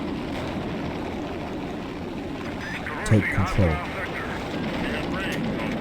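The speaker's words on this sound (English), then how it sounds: "these helicopters are insane" Helicopters flying in Urban Assault: a steady, whirring rotor drone runs throughout, with a brief cluster of sharper mechanical chops midway and a voice briefly heard.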